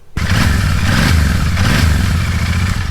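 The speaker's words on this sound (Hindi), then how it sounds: "2 साइलेंसर का जो साउंड है आप चेक कर सकते हैं" A stock Royal Enfield Continental GT650 parallel twin rumbles through its twin silencers, a loud, close, deep throbbing exhaust note that starts suddenly and holds steady at idle with slight rhythmic pulsing.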